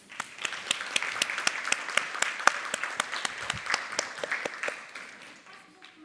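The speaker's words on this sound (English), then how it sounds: "Please, a huge round of applause for our panelists." A conference audience applauds panelists at a women in construction event, with dense, sustained clapping that fades out over the last seconds, plus a little background murmur.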